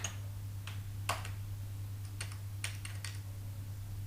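Keys on a computer keyboard are tapped in a few short, light clicks close up, with small gaps between presses over a steady low hum, while a short line of C code is typed.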